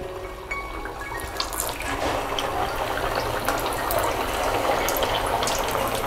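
Rava medu vada fry in hot oil over a medium gas flame, making a close, continuous hissing sizzle dotted with small crackles that grows slightly denser over time, with no talking.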